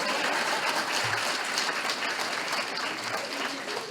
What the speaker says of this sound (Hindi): इनको जोरदार ताली बजाइए इनके लिए